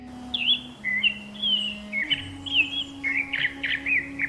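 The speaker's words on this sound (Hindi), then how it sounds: "पूरा जंगल पशु पक्षियों की आवाजों से गूंज रहा था" Birds and animals call through a forest in a cartoon sound effect: continuous chirping and whistled tweets over a steady low tone, bright and moderately loud.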